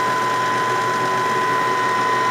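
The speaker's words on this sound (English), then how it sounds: "This is a serviced turbo molecular pump." A serviced Pfeiffer TMH 260 turbo molecular vacuum pump runs steadily, giving off a close, continuous high whine with a faint mechanical hum underneath, unchanging and uninterrupted, with no talk.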